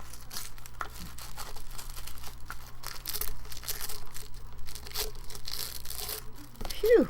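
Packaging from a mystery craft box is torn and crinkled open near the microphone, with continuous rustling and ripping crackles over a steady background hum and a brief voice near the end.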